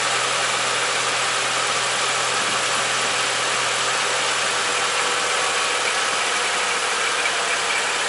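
A car engine idles steadily during an AC refrigerant recharge, a constant mid-pitched hum and faint vibration, close and unchanging with no talking.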